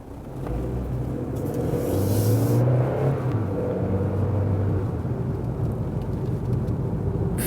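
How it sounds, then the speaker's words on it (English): A 2017 Fiat Tipo sedan engine drones steadily with a rough, low rumble, rising slightly as it revs, continuous throughout with no voices. "the noisy engine, of the rough engine"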